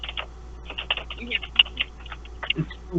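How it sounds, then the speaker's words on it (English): Computer keyboard typing picked up by a microphone, a run of quick uneven clicks and taps close to the mic with short gaps, joined near the end by a brief voice. "Hey, Keith, your keyboard's really picking up."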